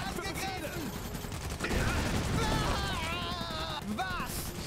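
Rapid gunfire and volleys from the mech strategy game Iron Harvest crackle continuously in a dense battle mix, with speech-like voices mixed in.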